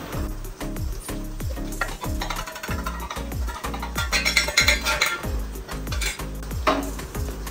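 Chili powder, salt and coriander powder stirred into a frying pan, with a repeated scraping spoon rhythm over steady sizzling, close and fairly loud throughout.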